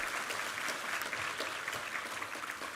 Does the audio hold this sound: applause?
yes